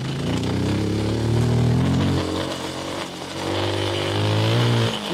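A Rieju 307 Aventura motorcycle engine hums steadily while riding, its pitch dipping and rising as the rider eases off and accelerates through a bend, loud and close.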